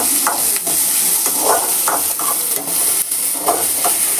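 Vegetables for paneer butter masala sauté loudly in a pan, a close, bright sizzle with intermittent spatula scrapes and stirs throughout, and no speech.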